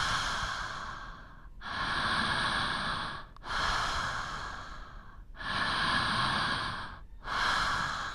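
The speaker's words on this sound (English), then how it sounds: "begin taking those deep, circular, connected breaths" Deep circular connected breathing through an open mouth, with long airy inhales and exhales that flow into each other in a slow, steady rhythm, close and loud, about four full cycles with no talking.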